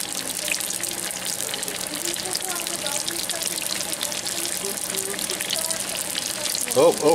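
Steady broadband hiss of egg rolls frying in hot grease, continuous and fairly loud, with a brief burst of voice near the end.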